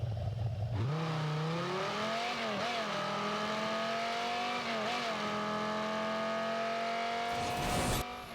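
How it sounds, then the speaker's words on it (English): Rocket League's 2016 Batmobile engine in the video game, a loud continuous synthetic engine drone that revs up sharply at the start, wavers in pitch mid-way and cuts off at the end, with no talk. "And here's a 5-second demo of the engine audio."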